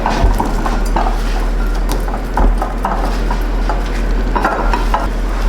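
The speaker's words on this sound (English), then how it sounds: "Just want to give them a little stir." Brussels sprouts being stirred in hot cooking oil in a pan, a steady scraping and clinking of utensil against metal under a continuous sizzle, close and fairly loud throughout.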